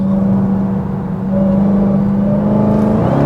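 A Dodge Charger Hellcat Widebody engine hums and builds with a steady whirring tone as it accelerates on a mountain road, loud and close, with no talking.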